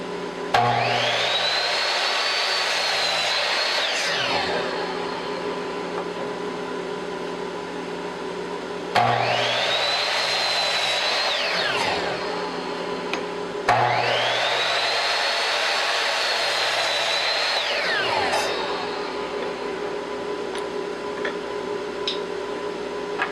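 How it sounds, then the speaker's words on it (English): A chop saw cuts cherry wood pieces for a mallet head: three loud, whining cuts in a row, each spinning up, biting through the wood and winding down. "take it over to the chop saw and cut off the pieces that I'll need to make the outer portions of the head of the mallet"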